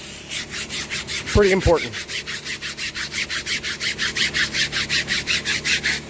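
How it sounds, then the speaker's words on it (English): A brush scrubs mold off a vinyl Jeep Wrangler top in fast, even back-and-forth strokes, a close rhythmic scratching that runs throughout, interrupted once by a short spoken phrase. "Giving it a scrub down, just like so. Crosshatch pattern, up and down, back and forth."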